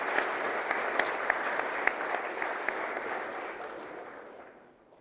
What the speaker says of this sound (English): Please congratulate all of the Year 7 award recipients.